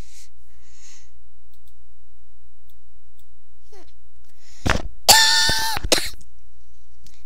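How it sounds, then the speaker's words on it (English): A single close, loud burst of coughing breaks an otherwise quiet room, lasting about a second before fading back to near silence. "Sorry, just coughing."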